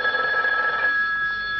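A telephone bell rings with a steady electronic trill, close and clear, sustained through the whole moment before cutting off.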